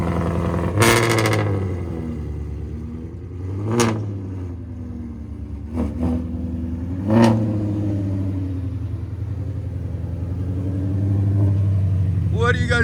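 A 2017 Ford Mustang GT350 with its 5.2L Voodoo V8, headers and straight pipes barks through a cold start, several sharp loud revs flaring over a rough, rumbling idle, with voices speaking around it.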